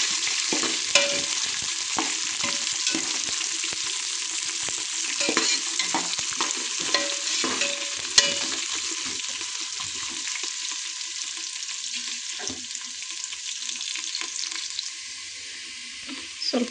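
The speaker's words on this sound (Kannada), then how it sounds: "ಸ್ವಲ್ಪ ಉಳ್ಳಾಗಡ್ಡಿನ ಬ್ರೌನ್ ಕಲರ್ ಬರೋವರೆಗೂ ಫ್ರೈ ಮಾಡ್ಕೋಬೇಕು." Onions frying in a pan until brown for vegetable palav, a steady close sizzle with scraping stirs and the clink of a spoon against the pan, and no talking.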